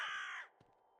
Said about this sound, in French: Oh, je vais pas tuer un pauvre corbeau, il a rien demandé.